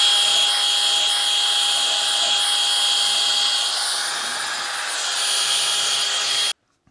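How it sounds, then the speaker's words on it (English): A power tool whines steadily while cleaning the brake back plate on a Princess 2200, a loud sustained high-pitched drone with a slight dip in pitch, cutting off abruptly at the end. "Now I'm gonna clean up the back plate."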